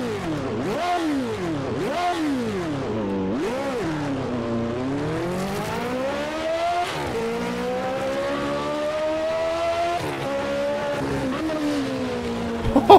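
In the Automobilista 2 racing game, a race car engine howls continuously, revs rising and dropping sharply through quick gear changes before settling into long climbing pulls, loud and alone.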